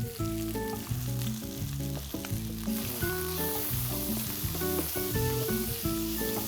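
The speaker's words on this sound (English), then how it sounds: "We need to cook the onions till they turn golden brown." Onions frying in a pan toward golden brown with a pinch of turmeric, a continuous close sizzle with frequent clinks and scrapes of stirring running throughout, no voices.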